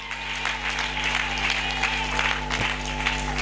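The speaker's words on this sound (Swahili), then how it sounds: "Piga makofi ya kishindo kwa Bwana majeshi." A church congregation applauding loudly in worship, a dense continuous roar of clapping hands filling the room throughout, close and sustained with a faint hum beneath.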